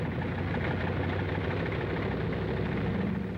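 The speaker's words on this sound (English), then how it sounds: "The sound of the engines warming up starts before dawn, echoing back from the mountains that flank the field." Bomber aircraft engines warming up on an airfield flanked by mountains in the Aleutian Islands during WWII, a continuous, heavy, low droning roar with a steady throb and no pauses.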